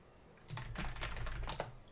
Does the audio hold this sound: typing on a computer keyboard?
yes